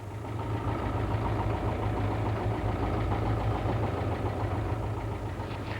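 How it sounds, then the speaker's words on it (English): An old Ferguson 35 tractor engine runs steadily with a low, knocking throb, moderately loud and constant throughout, with no voices. "it's rotated using an old Ferguson 35 tractor"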